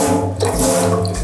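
Water runs from a tap in the washing area of an abandoned hotel, a loud, close, steady rushing splash throughout the short moment.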